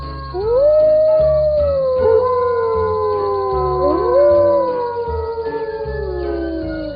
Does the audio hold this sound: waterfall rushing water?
no